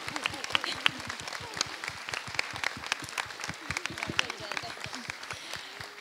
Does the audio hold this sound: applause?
yes